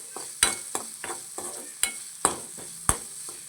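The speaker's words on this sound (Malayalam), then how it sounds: "2 മിനിറ്റ് ഒന്ന് നമുക്ക് എല്ലാം കൂടി ഒരുമിച്ചൊന്ന് വഴറ്റാം" Crushed garlic mixture sautéing in a pan, with a low sizzle under repeated sharp clacks of a spatula against the pan at an uneven rhythm.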